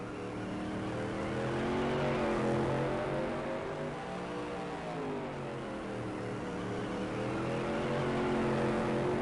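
Race cars lap a short track in a SUPRS race at Madera, a continuous loud engine drone that rises and falls as cars pass and rev, with no gap throughout.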